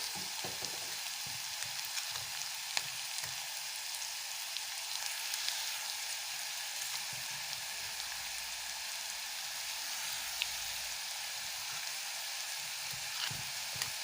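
Sesame seeds frying in a pan of hot oil, a steady fine sizzle with scattered small pops and crackles, close and continuous with no talking.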